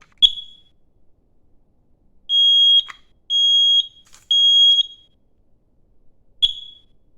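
A smoke alarm being tested in a loft: a short chirp, then three long piercing beeps in a steady pattern, and a final chirp, loud and close in a quiet room.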